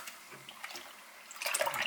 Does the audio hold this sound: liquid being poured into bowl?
yes